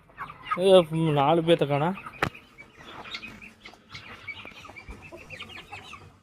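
Chickens and guinea fowl at a farm give a burst of loud clucking and squawking near the start, then settle into scattered softer calls under someone speaking Tamil.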